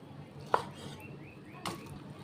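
A knife chops fatty beef on a cutting board: two sharp, close thuds about a second apart against a quiet background, without speech.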